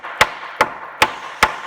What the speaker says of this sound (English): start hammering on the frame and get rid of all that scale